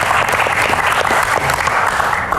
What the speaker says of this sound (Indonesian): Tepuk tangan dulu buat Sherly.